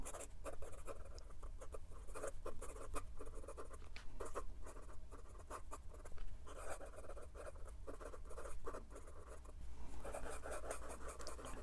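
A 1940s Waterman Starlet fountain pen writing quickly on paper, close and continuous with rapid scratchy strokes and short lifts between words, over a faint steady hum.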